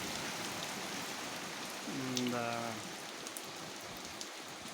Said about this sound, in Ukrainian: Гарний дощик, гарний.